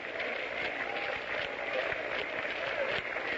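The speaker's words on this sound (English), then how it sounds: "The crowd is beginning a sort of a half-hearted hand clapping." Scattered, half-hearted hand clapping from a 1930s baseball crowd in an old radio broadcast, a thin steady patter of applause heard through muffled, band-limited audio.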